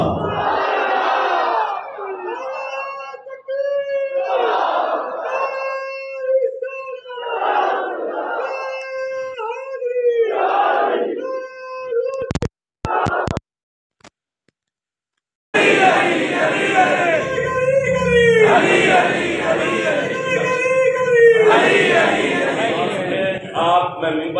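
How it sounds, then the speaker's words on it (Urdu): At a religious gathering, a voice calls out slogans and a large crowd roars back in rhythmic waves, loud and repeated, broken by a brief silent gap before the chanting resumes fuller. "یہ جو بچہ نعرے لگاتا ہے"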